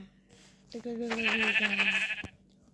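A single drawn-out sheep bleat in Minecraft, wavering and fairly close, rising out of near silence and then cutting off.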